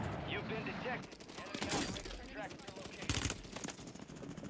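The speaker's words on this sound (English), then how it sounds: "that guy sniped him" Sniper rifle shots ring out in Warzone 3 on Rebirth Island, sharp broadband cracks landing amid a busy, dense mix of gunfire and game noise with voices talking over it.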